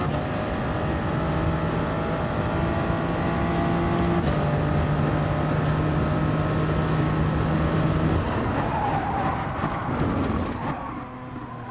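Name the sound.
BMW race car engine and skidding in video game Gran Turismo Sport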